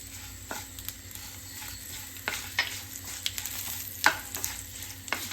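Green chillies, curry leaves and asafoetida crackle in oil for a poha mixture, a soft steady sizzle punctuated by several sharp knocks of a stirring spoon against the pan.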